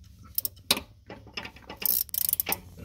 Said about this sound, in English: now I'm just going to use the bolts to kind of pull the transfer case up